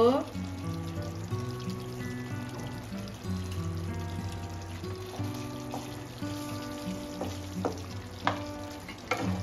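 Pointed gourd curry with a spoonful of sugar is stirred in a pan over a low gas flame, giving a continuous soft sizzle with scraping stirs and a steady background hum.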